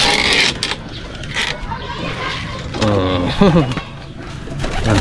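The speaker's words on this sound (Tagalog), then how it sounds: "Ito naman po mga kalapati natin, mga kabida." Pigeons coo softly in low, warbling calls while a person talks nearby, with rustling and background noise.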